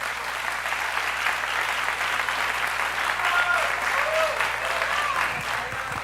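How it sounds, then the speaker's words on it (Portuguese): A church congregation applauding during a celebration service, dense sustained clapping from a large crowd, loud and even throughout with faint voices mixed in. "Vamos aplaudir ao Senhor para essas vidas aí"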